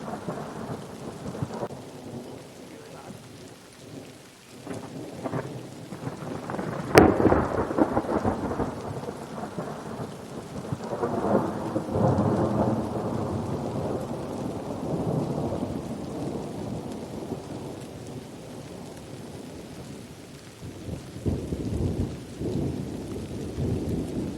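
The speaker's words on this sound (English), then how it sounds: "now we're about to listen to a thunderstorm." Steady rain falling with a sharp crack of thunder early on, followed by long rolling rumbles that swell and fade over the downpour.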